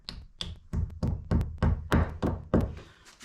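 A hammer taps wooden rod plugs into holes in a workshop: about eight close, sharp knocks in a quick, slightly uneven rhythm, each a short woody thunk, with no talking.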